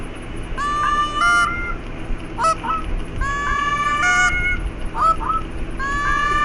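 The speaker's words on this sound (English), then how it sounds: "I noticed the geese ain't as common in the game." Geese in The Hunter: Call of the Wild honk in repeated bursts of layered, overlapping calls, several birds at mid distance over a steady outdoor ambience.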